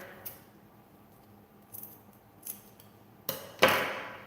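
Scissors snip through material while a trash can is being decorated: several sharp, separate cuts, faint at first, then a louder, crisper snip near the end, with no voices.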